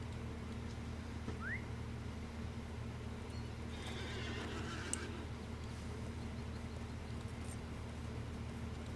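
A horse in a Middle-earth video game neighs and whinnies amid its hooves' clip-clop, heard over a constant low droning backdrop with no talking.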